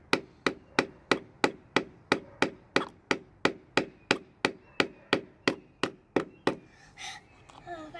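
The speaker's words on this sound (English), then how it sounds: "She's trying really hard to nail it in. Hammer it in." A child hammers nails into a wooden birdhouse, about sixteen sharp, evenly spaced wooden knocks in a steady rhythm, close and fairly loud, then the blows stop and a voice speaks briefly at the end.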